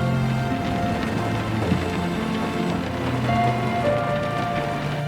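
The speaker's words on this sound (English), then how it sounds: "The sound of rain hitting the window of a car." Rain patters steadily against a car window, a dense, even drumming of drops heard from inside the car, with a low rumble underneath.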